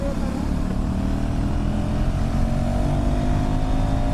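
An NS motorcycle engine held at a steady high drone while racing with friends on a night ride, loud and continuous with rising engine pitch and rushing wind, no talking heard.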